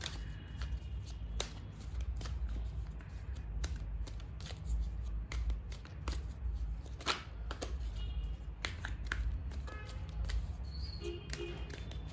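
Tarot cards are shuffled close by with a soft, steady riffling and light slapping of the deck, quiet and continuous, with no voices.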